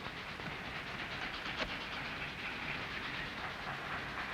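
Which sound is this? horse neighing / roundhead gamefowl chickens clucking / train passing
train passing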